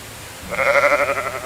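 Sheep bleating while being sheared in the video game Medieval Dynasty: a single loud, wavering bleat begins after a short quiet lead-in and holds for about a second before fading slightly.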